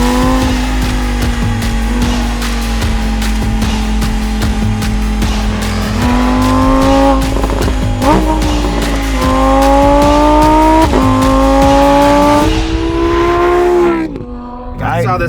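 Lamborghini Huracan STO, a road-going track car, engine loud and close under hard driving, rising and falling through revs with clear shift breaks and a sharp downshift blip near the end.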